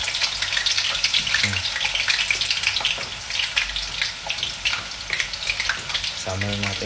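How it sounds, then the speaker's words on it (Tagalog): Steady, dense sizzling of potatoes frying in hot oil fills the clip, with brief clinks and a short voice near the end. "Prito natin itong patatas."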